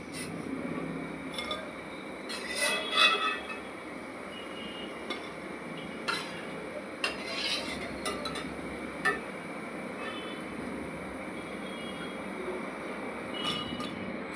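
Crisp fried mixed bhaji is lifted out of the hot frying pan: a few light metallic clinks and scrapes of a utensil against the pan over a low, quiet background.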